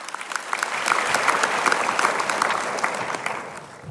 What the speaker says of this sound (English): I think they deserve an applause as well.